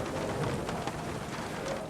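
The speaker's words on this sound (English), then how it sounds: "Listen to that rain come down." Heavy rain pours down during a racing game's wet race, a fairly faint, steady wash of noise with no breaks or voices.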